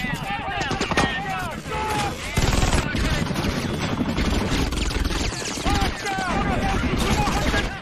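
Rapid bursts of machine gun fire in a war film battle scene, loud and dense, repeated volleys overlapping with shouting voices and chaotic combat noise throughout.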